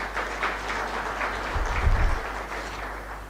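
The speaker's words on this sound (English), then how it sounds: "Colleagues, can you just give them a round of applause?" Applause from a gathering of colleagues at a birthday celebration event, a soft, steady patter of many hands, moderately distant, with a low rumble from the room underneath.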